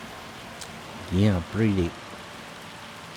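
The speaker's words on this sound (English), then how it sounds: "lousy weather. We got hit with the hailstorm here." Steady rain drumming in a hailstorm in the Farming Simulator 25 video game, a continuous even hiss throughout, with a voice speaking briefly over it.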